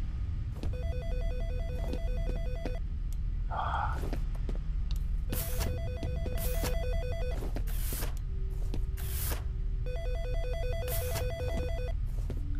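A telephone rings repeatedly in the video game F.E.A.R., electronic ring bursts in a regular pattern over a low ambient hum, with brief clicks and mechanical noises between rings.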